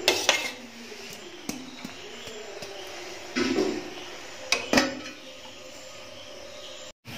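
A metal lid goes onto a pan of pardah biriyani with ghee, with several sharp close clanks and knocks spaced a second or so apart over a quiet steady background.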